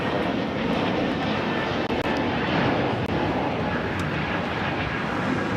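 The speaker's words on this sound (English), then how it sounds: "Japan Airlines, the 777-300ER now heading to Tokyo Haneda" Japan Airlines Boeing 777-300ER jet departing Los Angeles for Tokyo Haneda, a steady moderately loud engine roar with a faint high whine, holding constant over the whole stretch.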